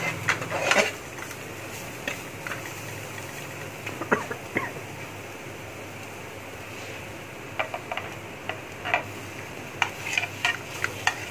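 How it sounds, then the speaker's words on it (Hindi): Spices being stirred into chicken samosa filling frying in a pan, with a steady low sizzle and intermittent scraping clicks of the spoon against the pan, close and moderately loud, no talking. "इसको अच्छी तरह मसालों को मिक्स कर लेंगे"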